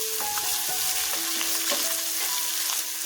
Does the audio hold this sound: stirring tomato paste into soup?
yes